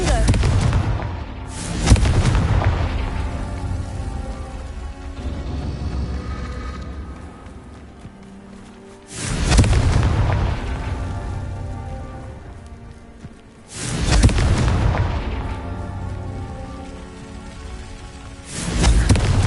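Fiery Confringo blasting spells in Hogwarts Legacy, three loud broadband explosive bursts at roughly even intervals, each with a sharp onset and a rumbling decay, over an ongoing game soundscape.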